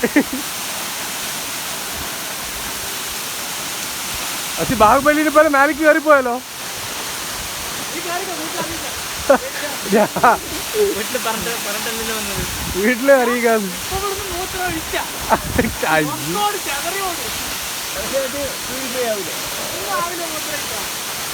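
Steady broadband roar of a large waterfall runs through the whole scene, continuous and fairly loud, with several people talking and calling out over it.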